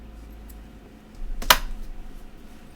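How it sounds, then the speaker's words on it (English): A single sharp scissors snip cuts away excess marabou craft material, close and brief against a quiet room. "Maybe I should measure out and just snip it off what I don't want."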